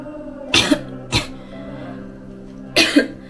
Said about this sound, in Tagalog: Medyo may ubo din ako